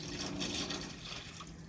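Flood salt water drains steadily from a 1973 Pontiac Trans Am caught in a hurricane flood, a continuous close splashing trickle with no speech over it.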